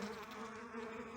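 Newly hatched honeybees at the hive give off a soft, steady hum of buzzing wings, a faint continuous drone with tonal bands and no break.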